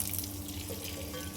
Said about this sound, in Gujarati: સૌથી પહેલાં આપણે પાણી ભરી દઈએ